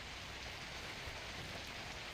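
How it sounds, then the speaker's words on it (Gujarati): Rain falls in Sabarkantha district, Gujarat, during cyclone-driven heavy showers. The patter is faint, even and continuous, with no voices. "સાબરકાંઠા જિલ્લામાં ભારે વરસાદ પડ્યો।"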